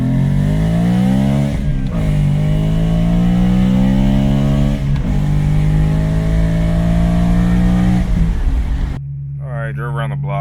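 A BMW E9X M3 driving around the block, its engine note rising and falling steadily through gear changes at close range, loud and continuous, then dropping to a lower idle-like drone near the end.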